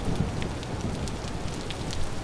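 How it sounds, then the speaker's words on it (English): Heavy rain falls steadily in the video game Vintage Story, a dense, even hiss of drops pattering on surfaces with no pauses and no other sounds. "Still blown away by all this rain. This rain is just crazy to me."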